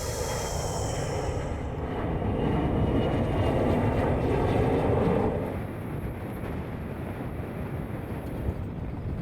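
Steady airliner cabin drone on a roughly three-hour flight north to Iqaluit in the Arctic, a loud broadband roar with wind-like hiss that swells midway and then settles, no talk.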